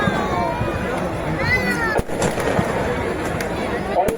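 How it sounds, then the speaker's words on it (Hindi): Fireworks going off during a Dussehra festival at Ram Leela Maidan, with a few whistling rockets rising and sharp bangs over a dense, noisy crowd and ambient clamour; people talk throughout. "अब ये आतिशबाजी का नजारा भी शुरू हो चुका है"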